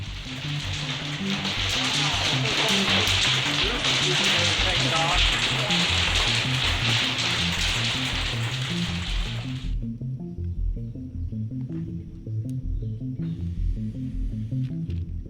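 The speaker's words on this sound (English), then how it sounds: "2 giant tarps did the trick, and it was just in time for some surprise hail." Surprise hail pelts two giant tarps stretched over the roof of a vintage triple-wide mobile home, a loud, dense hiss of impacts that runs steadily, then drops away abruptly partway through, leaving a quieter background.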